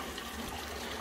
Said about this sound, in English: So now you can hear that water running in there.